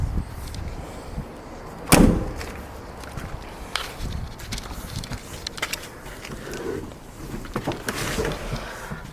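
A lid slams shut on a Chevrolet Chevette with one solid, close thump, followed by low handling noises and rustle.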